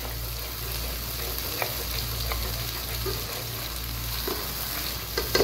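Masala for chole frying in oil as it is stirred, a constant close sizzle with occasional spatula scrapes and clicks, loud and continuous with no talking.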